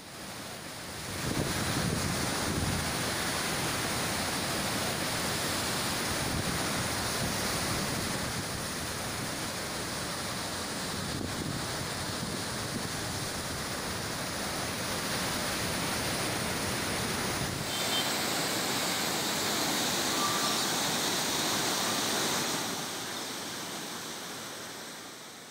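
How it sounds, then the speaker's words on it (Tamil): Floodwater from the swollen Manimuthar and Agasthiyar waterfalls rushes in a dense, steady roar, a continuous broad wash of noise with no voices. "மணிமுத்தாறு அருவி, அகஸ்தியர் அருவியில் வெள்ளப்பெருக்கு ஏற்பட்டுள்ளதால் சுற்றுலா பயணிகள் குளிக்க தடை விதிக்கப்பட்டுள்ளது"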